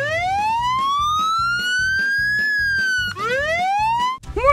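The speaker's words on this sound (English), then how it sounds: "It's a siren. That means someone needs our help." A cartoon fire truck siren wails loudly and alone, sweeping steadily upward in pitch, then dropping and rising again in quicker whoops near the end.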